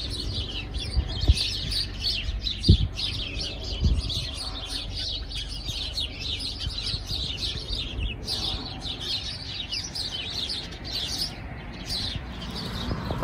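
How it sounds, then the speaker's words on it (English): A bush full of small birds chirping, dense overlapping high tweets at steady volume with occasional nearby knocks and light wind rumble outdoors, no voices. "I walked past that bush yesterday and it's just full of birds chirping."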